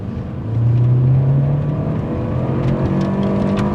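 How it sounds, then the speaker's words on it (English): A car engine with a CVT transmission rises under acceleration, its drone climbing, then the transmission hangs up, briefly stalling and wavering before pulling again, with no one speaking. "the transmission hung up there a little bit"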